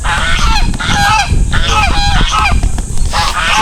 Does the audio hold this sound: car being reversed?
no